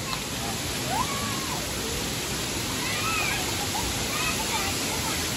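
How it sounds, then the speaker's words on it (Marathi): Steady broadband rush of a small waterfall at Nhavankond in Konkan during the monsoon, filling the scene continuously at close range, with faint voices threaded beneath the water noise. "जो मिनी धबधबा आहे."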